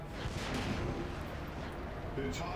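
Tank cannon fire in the World of Tanks video game, heard from a Churchill VII: dense booming shot noise with rumbling explosions, filling the whole stretch at steady loudness.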